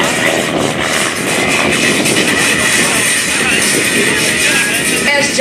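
An airshow aircraft passes overhead at Langley Air Force Base, a loud, continuous broadband engine roar that fills the whole clip and swells slightly toward the end.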